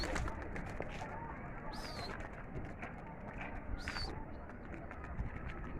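Soft pigeon coos repeat a few times close by, with faint chirps and rustling from young birds at a pigeon loft, all quiet against low background noise and occasional speech.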